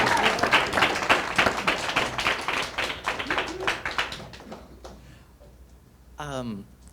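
An audience bursts into hand claps and snaps, loud and dense at first, then thinning into scattered claps before fading; a voice speaks briefly at the end.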